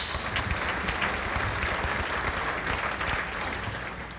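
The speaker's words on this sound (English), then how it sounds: "So a great round of applause to all of you." A room of diners applauds at a Putnam County Republican Party Lincoln Reagan Dinner, a full, steady round of clapping from many hands that holds evenly and tapers a little at the end.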